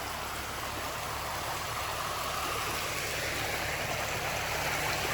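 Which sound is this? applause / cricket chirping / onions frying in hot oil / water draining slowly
water draining slowly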